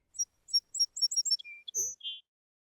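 A small songbird sings a quick series of high, thin chirps and short whistles, clear and fairly close, with no other sounds around them.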